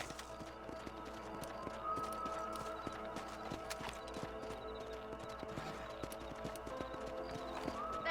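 Horse hooves in Red Dead Redemption, a continuous rhythmic clip-clop of a riding horse at a steady pace, moderately close over a layered game music and ambience bed.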